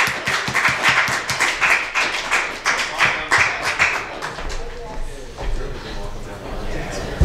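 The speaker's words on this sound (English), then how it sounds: "give a round of applause for the man who's going to walk her down the aisle" Comedy club crowd applauding as a man is introduced, dense loud clapping with whoops through the first few seconds, then fading into scattered claps and murmuring.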